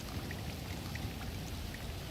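Rainfall in the video game GTA V patters softly and evenly for a couple of seconds, faint and with no talking.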